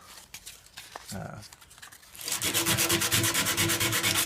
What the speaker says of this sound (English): sand that, get it nice and rough